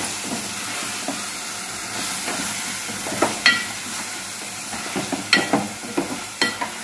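Mushroom curry sizzles and fries in a pan while a spoon stirs it, with steady hiss and a series of sharper scraping clacks toward the end, close and with no talk.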